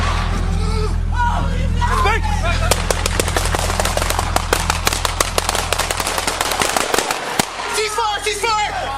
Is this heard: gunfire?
yes